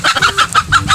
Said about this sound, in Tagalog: Meron dito nag-itlog din manok.